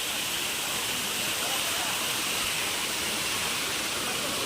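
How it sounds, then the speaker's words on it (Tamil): Kiliyur waterfall in Yercaud roars as a steady, even wash of falling water, continuous and unbroken throughout, with no distinct events rising above the rushing noise. "கைஸ் வேற லெவலில் இருக்கு பாருங்க ஃபால்ஸு."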